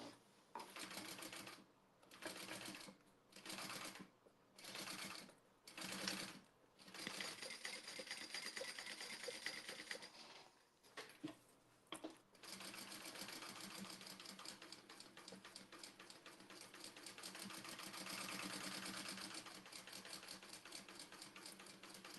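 A sewing machine top stitches and bastes the fabric layers of a small wallet, first in short rhythmic bursts with pauses and then in a long continuous run of rapid mechanical clatter, close and alone.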